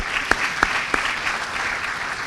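An audience claps steadily at a formal ceremony, brisk applause with a few sharper individual claps standing out near the start, filling the room without any talk.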